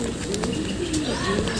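Pigeons coo and call near a loft as racing pigeons return, several soft close bird sounds overlapping on a steady background with no talk.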